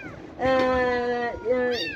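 A rescued kitten trapped in a building's exterior cladding gives two or three clear, high meows close by, the first long and drawn out, the others shorter.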